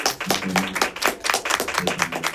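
Hands clap in a burst of audience applause, close and lively with uneven overlapping claps for a couple of seconds.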